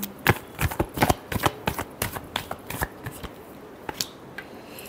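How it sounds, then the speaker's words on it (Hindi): A tarot deck given a final shuffle: a rapid run of crisp, close card riffles and slaps that crowds the first half, then slows to a few last flicks. "last shuffle"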